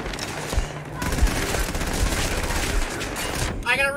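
Rapid gunfire at target practice in the video game Starfield, a dense sustained burst of shots running nearly the whole time, loud and close.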